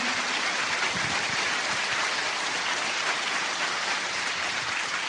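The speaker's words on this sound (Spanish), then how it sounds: "él se merece un aplauso más fuerte" An audience at a live business talk applauds loudly and steadily, a dense wash of many hands clapping without a break from start to finish.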